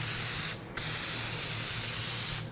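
Spray adhesive hissing out of a can onto fabric while a Chevy Silverado crew cab headliner is recovered: a steady, close airy spray that breaks off briefly after half a second, resumes, and cuts out just before the end.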